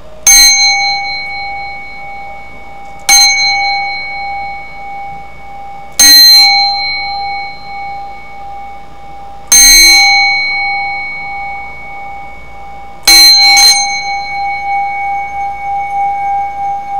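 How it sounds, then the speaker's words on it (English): A small hand bell used for a tarot reading rings five times at irregular intervals, each a bright clear strike with a long ringing decay, loud and alone. "let's get our little bell."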